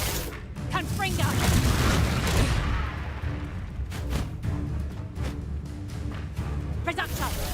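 A Confringo blasting-curse explosion in a Harry Potter video game, heard as a heavy, rumbling boom within continuous loud magical combat noise and crackling impacts.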